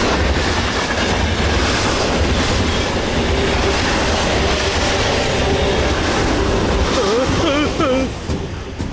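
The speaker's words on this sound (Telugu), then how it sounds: "ఒక ట్యాంకర్ ట్రైన్, అది కూడా హైలీ ఇన్ఫ్లేమబుల్ ఆయిల్ తో డ్రైవర్ లేకుండా వేగంగా వస్తోంది." A driverless runaway tanker train loaded with highly flammable oil barrels along, giving a loud, continuous rumbling roar with rail clatter and a rising wheel whine toward the end.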